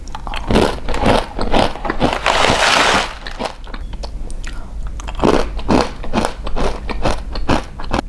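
A maple pecan rice cookie is bitten and chewed close to the mic. Loud, repeated crunches and crackles come in a steady chewing rhythm, with no talking.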